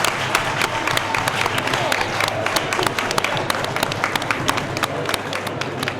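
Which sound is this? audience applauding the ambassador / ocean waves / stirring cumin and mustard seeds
audience applauding the ambassador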